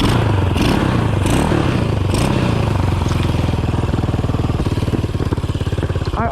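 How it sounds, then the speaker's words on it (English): A Honda Rebel 250 motorcycle cranks over with kickstart and electric start together, sputtering and clattering for a few seconds before catching into a loud, steady, rapidly pulsing idle close by. "Starting this bike is very strange. I use kickstart to help the electric start."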